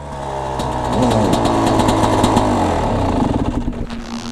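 A Husqvarna TE 300i two-stroke motorcycle engine revs hard and buzzes at high pitch, holding a loud sustained roar close by before fluttering and dropping off toward the end.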